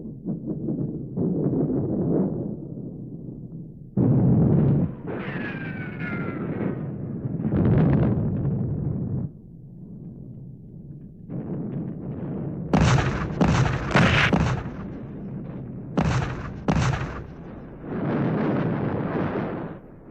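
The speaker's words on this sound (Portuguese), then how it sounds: "A artilharia agora estava bombardeando o próprio coração de Berlim." Artillery bombardment of central Berlin in the Second World War, heard as dull booms and rolling rumbles in separate bursts, with sharper cracks near the end and short quiet gaps between.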